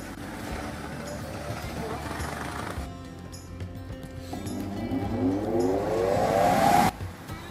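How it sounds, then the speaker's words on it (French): Two blower motors inflating a paint booth, sped up: a loud mechanical whine that cuts out briefly, then returns with rising, sweeping tones building to a peak before stopping abruptly. "Pour la gonfler, on met les deux moteurs en route."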